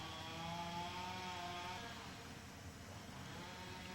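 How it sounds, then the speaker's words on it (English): Chainsaws run in the distance during firefighter training near a parking area by Garrison Bay, a faint, steady droning whine with wavering pitch that holds across the whole stretch, with no talking. "You can hear some chainsaws in the background."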